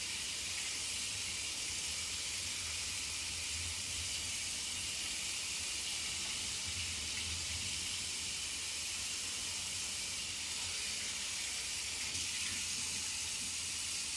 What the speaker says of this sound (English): run it through hot water or warm water on my sink